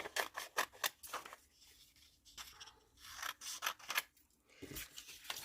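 Scissors cut through linen fabric for a simple vest, a series of close, crisp snipping strokes in quick bursts with short quiet gaps, with no voices.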